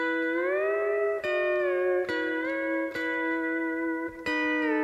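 Pedal steel guitar fill bending up from the top F lever, sustained harmonized notes gliding in pitch with several sharp picked attacks, played alone, clear and close.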